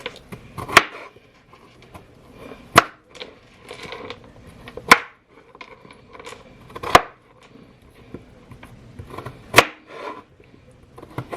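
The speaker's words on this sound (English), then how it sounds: "I just like to dice them up into small enough pieces" A knife dices potatoes into small pieces on a cutting board, sharp chops landing roughly every two seconds with softer scraping and handling sounds between them, close and clear with no speech.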